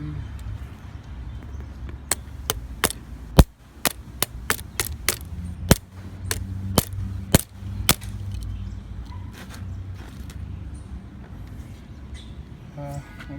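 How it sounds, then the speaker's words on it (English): A claw hammer standing in for a mallet bangs a part into a Yamaha R6 motorcycle's DIY phone mount outdoors, giving a dozen or so sharp, close metallic knocks in an irregular rhythm over a steady low background hum. "I brought a hammer. This is my makeshift mallet."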